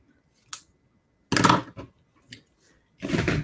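Scissors snipping through paper while a stamped gift card holder is folded, a few short crisp cuts in separate bursts with pauses between, close and fairly quiet, no voices.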